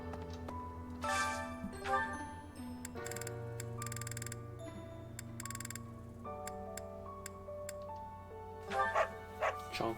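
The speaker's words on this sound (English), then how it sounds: "Look at this dog, dude." A dog barks in the video game Fire Emblem Three Houses, short repeated woofs over steady game music with ticking clock-like sounds.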